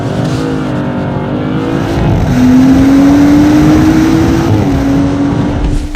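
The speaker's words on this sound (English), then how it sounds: "now I've got a full tank of fuel and a 3 litre turbocharged 6-cylinder engine at" A 3-litre turbocharged six-cylinder petrol car engine revs loudly and close, its pitch climbing steadily through a long rise, then dropping back and holding.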